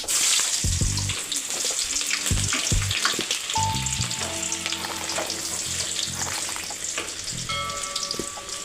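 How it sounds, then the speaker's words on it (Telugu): Onions frying in hot oil for a chicken curry, a steady close sizzle with scattered crackles and spatter, broken by a few stirring scrapes and clinks partway through. "ఆనియన్స్ వేసుకోండి తర్వాత వచ్చేసి మనము మిరపకాయలు కూడా వేసుకుని"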